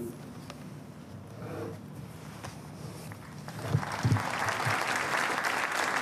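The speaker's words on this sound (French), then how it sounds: "Voilà l'intervention royale applaudie." At the Belgian National Day celebration on 21 July 2020, an audience applauds the king's speech. The clapping is light at first, then swells after a few seconds into steady, full applause.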